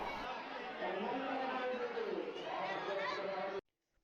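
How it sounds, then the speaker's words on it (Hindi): Dense crowd chatter fills a packed Hindu temple during Navratri aarti, many voices overlapping close by before cutting off abruptly. "और हम पहुंच गए हैं मंदिर और यहाँ बहुत ज़्यादा भीड़ है।"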